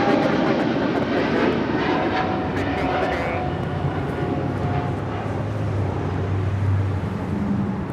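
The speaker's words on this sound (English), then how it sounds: "That is Philippine Airlines Flight 113 departing to Manila on a 777-300ER." A Philippine Airlines Boeing 777-300ER departs Los Angeles International Airport for Manila, a loud, steady jet engine roar filling the scene, with a low rumble swelling toward the end and some faint voices underneath.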